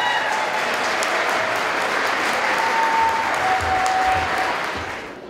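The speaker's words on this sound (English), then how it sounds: "please give a warm, warm, loving round of applause to Benjamin Saenz." A crowd gives sustained applause for Benjamin Saenz at a reading at Mercado Mayapán, a steady roar of many hands that holds for several seconds, then fades toward the end.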